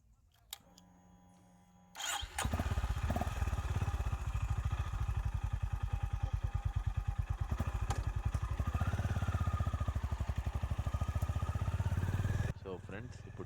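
A Honda H'ness CB350 motorcycle starts after a few seconds and settles into a close, thumping single-cylinder idle and rev on a test ride, its rapid even pulses steady for about ten seconds before cutting off.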